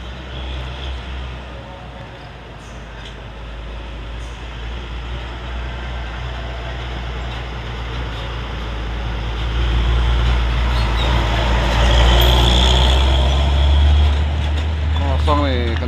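A big empty long-box truck climbs the steep old Alas Roban road in Batang, its deep engine rumble swelling from far below and growing louder and nearer as it approaches, with a person talking over it.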